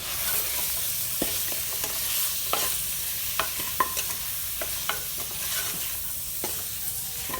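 Boiled goat trotters with masala and salt sauté in a pan, a steady close sizzle broken by sharp spatula clicks and scrapes against the pan at an irregular pace, with no talking.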